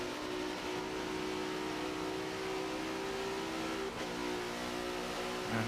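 Race car engine in a sim-racing endurance event at Spa-Francorchamps, a steady loud mid-pitched drone held throughout with a brief shift near the end, no voices.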